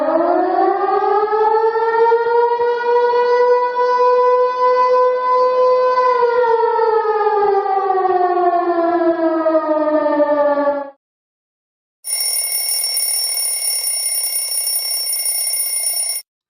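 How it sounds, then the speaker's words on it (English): A danger alarm siren wails loudly in a long rising and falling tone for about ten seconds, then after a short gap a harsher, higher electronic alarm blares steadily, with no voices. "Danger alarm sound effect."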